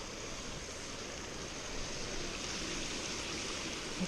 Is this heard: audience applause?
no